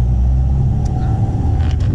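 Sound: car engine pulling away in second gear

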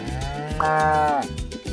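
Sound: cow mooing

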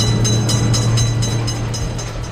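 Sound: train passing a railroad crossing in a video game

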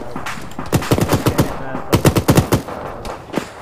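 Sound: machine gun fire in the video game Arma 3

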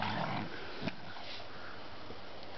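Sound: dogs playing rough in snow

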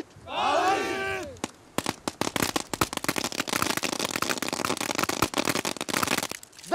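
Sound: gunfire at a military shooting range

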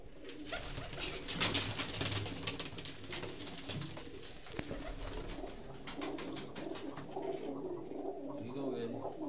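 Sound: teddy pigeons cooing

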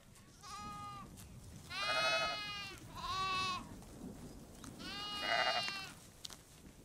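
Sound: lamb bleating on a sheep farm

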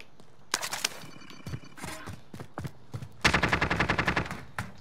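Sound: gunfire in a video game

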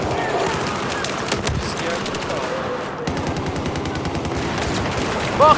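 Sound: gunfire in the video game Battlefield 4

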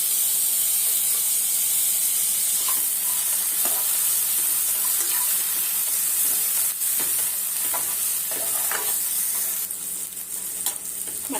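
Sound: chopped tomato added to sizzling mutton chops masala

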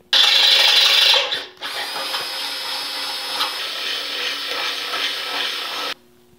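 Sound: drill bit over-drilling bolt holes in car frame

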